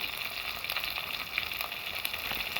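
A paste of ground coconut, coriander and chilli with turmeric sautés in a pan, giving a steady, close hiss with light crackling throughout and no talking.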